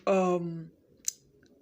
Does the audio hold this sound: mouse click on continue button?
yes